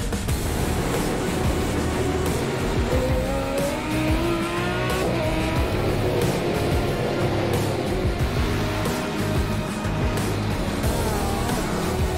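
V8 Supercars racing at the Nurburgring in iRacing, loud engines roaring continuously at close range with rising and falling pitch through gear changes, and tires squealing through corners.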